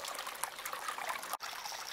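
Water trickles and flows steadily over a sluice and Miller table used for cleaning up heavy garnet sand, a close, even wash with one brief dropout partway through.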